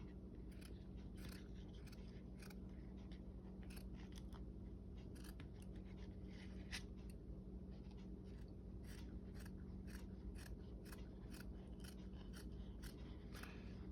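Scissors cutting fabric for a gnome's formal coat: a close, quiet run of crisp snips, repeated steadily with short gaps, over a faint constant hum.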